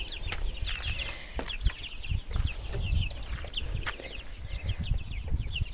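Hens of a hybrid laying cross cluck continuously in a backyard poultry run, a busy mix of short, overlapping clucks at moderate volume with occasional rustling and scratching close by.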